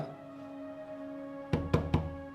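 Three quick, sharp knocks on a door, close and evenly spaced, ringing out over a quiet steady hum with no voices.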